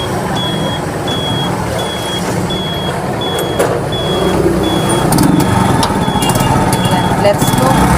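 A truck backs up with a steady series of evenly spaced high reversing beeps, roughly two per second, over a rumbling engine and outdoor noise in a parking area, with a person speaking briefly.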